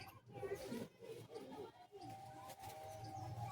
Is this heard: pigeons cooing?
yes